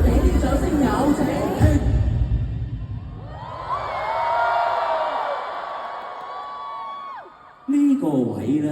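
A big arena crowd at a comedy concert in Hong Kong's Coliseum cheers and whoops loudly, a sustained roar of voices swelling and fading over several seconds, with someone talking before and after.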